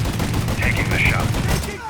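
Gunfire in the video game Mafia 3 during a turret fight, a dense, steady rattle of shots with bright metallic pings, close and loud throughout.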